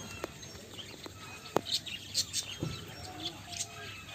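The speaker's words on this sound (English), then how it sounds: "Ang cute ng mga bird!" Small birds on a farm in the UAE chirp in scattered, high, short tweets over a soft outdoor hum, with a few light taps and rustles mixed in.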